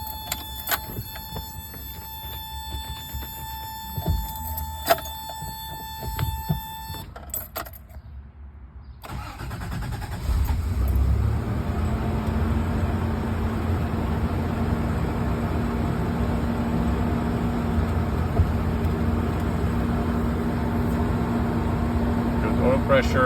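A 1989 Toyota 4Runner engine cold-starts after some keys jangle and faint clicks, then settles into a steady, close, fairly loud idle drone that runs to the end.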